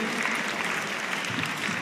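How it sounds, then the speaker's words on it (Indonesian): Audience applause for the nominees at the Indonesia ICT Award (INAICTA) 2013 gala night, a steady wash of clapping from a large crowd that stays even and loud throughout. "Tepuk tangan untuk para nominator dulu semua yang sudah hadir di sini."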